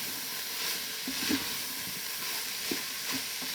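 Continuous soft sizzle and hiss of Bolognese sauce frying in a pot, with occasional light scrapes, close and quiet.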